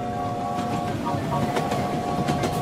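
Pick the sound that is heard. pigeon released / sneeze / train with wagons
train with wagons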